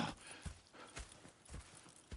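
Horses in the video game Red Dead Redemption 2, soft hoof clops in an uneven rhythm with light shuffling, quiet and fairly close, with no talking.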